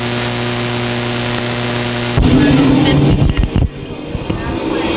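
Race cars in a heat race at Lakeside Speedway roar past up close, a loud engine burst surging in after a steady droning hum, then fading as the pack moves away.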